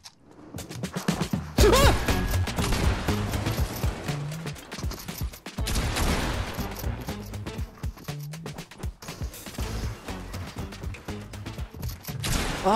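Rapid bursts of gunfire in the video game Fortnite, loud and close, with dense rattling volleys, brief gaps between salvos and sharp cracks layered over busy game sounds.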